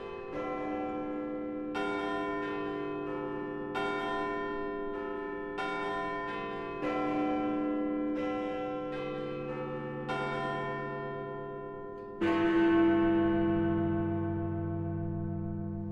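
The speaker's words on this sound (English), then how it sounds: "the chimes of a neighbouring church struck out the Westminster quarters" Church bells ring the Westminster quarters, a slow chime sequence, each strike ringing out and decaying, ending on a deeper, louder toll that lingers.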